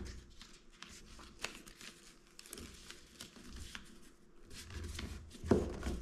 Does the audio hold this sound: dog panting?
no